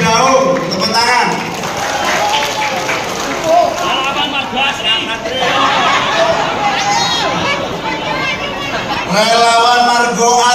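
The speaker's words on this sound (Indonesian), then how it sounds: "Relawan Kedaung, tepuk tangan." Crowd at an outdoor political campaign rally claps for volunteer groups amid loud chatter and shouting voices, applause mixed under a busy hubbub that swells near the end.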